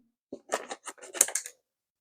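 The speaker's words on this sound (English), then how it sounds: "We're gonna use the scissors to cut it open." A quick series of crisp metallic snips and clicks of scissors cutting open a seasoning packet, close up, about half a dozen in a second, with no talking.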